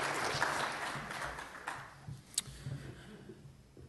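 Audience applause after a closing keynote at a data symposium, a broad steady wash of clapping that slowly thins out toward the end, with a few sharp individual claps near the middle.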